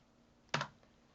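A brief burst of keystrokes on a computer keyboard while entering a web address, one quick cluster of clicks with a faint tap after it against a quiet background.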